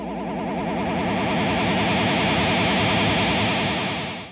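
Profiling test tones from a Kemper guitar amplifier, a loud, distorted, buzzing wash of rapidly warbling tones that holds steady and then fades at the end.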